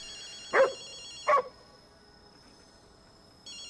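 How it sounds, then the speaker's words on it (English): Two short dog barks from a dog in the video game Ghostwire: Tokyo, close and distinct, spaced under a second apart, followed by a quiet ambient hum with no talk. "Oh, you mean the dog?"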